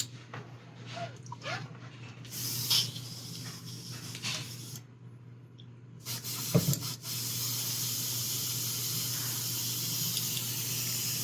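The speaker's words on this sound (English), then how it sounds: "Just clean out my airbrush." An airbrush is sprayed clean after yellow paint, giving a hissing spray that starts around six seconds and holds steady to the end, with faint rubbing and clicks before it.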